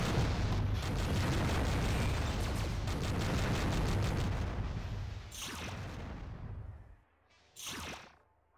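Weapon fire against a wall panel in Descent 2, a sustained roaring blast of shots and explosion noise for several seconds, then fading, followed by a brief sharp burst near the end, with no talk.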